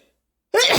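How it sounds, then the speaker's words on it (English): A single sudden sneeze bursts out after near silence, loud and close, with a sharp onset and a breathy, noisy tail. "And I can feel a sneeze coming along."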